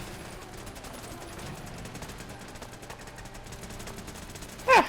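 Castle turrets fire in a video game as a dense, continuous volley of rapid gunfire-like shots, fairly even in level throughout, with a brief louder burst at the very end.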